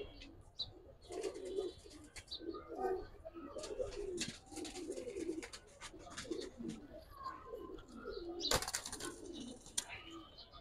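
Giribaz and colored pigeons cooing in soft, repeated low bursts, fairly quiet and close, with scattered rustles, a few sharp clicks and faint voices in the background.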